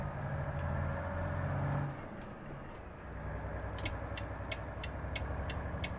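A Volvo truck engine with a sound mod in Euro Truck Simulator 2 drones in a low steady rumble, dips for a moment, then settles back, with faint hissing and ticking on top.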